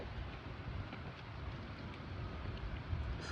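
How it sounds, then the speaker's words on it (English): Constant low rumble of wind blowing across the microphone, fairly quiet and even, with no voices. "It's windy."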